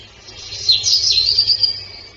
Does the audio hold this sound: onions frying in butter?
no